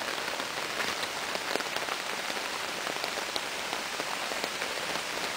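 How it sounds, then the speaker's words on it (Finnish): Rain and hail shower down together in Hämeenlinna, Finland, a dense, unbroken hiss of drops and small ice pellets striking surfaces, steady and loud throughout with no voices. "Tää on vaan rakeita."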